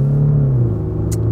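A VW Phaeton with an automatic gearbox accelerates, its engine drone sliding down in pitch as the transmission shifts up, heard as a steady, fairly loud rumble from inside the cabin.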